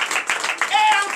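Congregation clapping in praise during a morning prayer service in Benin, a short burst of rhythmic claps mixed with voices and a sustained sung or shouted tone.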